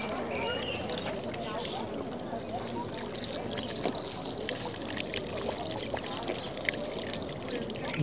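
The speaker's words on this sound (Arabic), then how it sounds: "احلى حاجه في روما بقى الحنفية الماية" Water runs steadily from a public drinking fountain tap on a street in Rome, a continuous splashing trickle heard close up, with people talking over it throughout.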